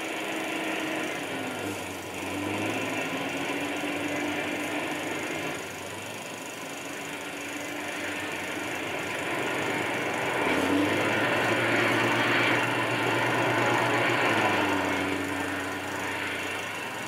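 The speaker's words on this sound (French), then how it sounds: "Entendant ces bruits de moteur" Tank engines run as the tanks move into position on the start line, with infantry carriers following behind. A continuous mechanical drone and clatter swells and eases over about seventeen seconds, with no voices.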